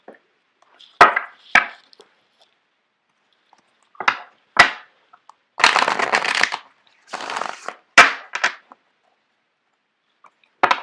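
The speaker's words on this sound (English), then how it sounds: "I'm going to shuffle out the cards for you guys." Tarot cards are shuffled by hand in quick, separate bursts of riffling and slapping, each lasting a second or less with quiet gaps between, close and crisp in a silent room.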